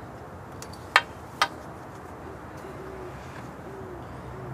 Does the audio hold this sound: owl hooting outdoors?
yes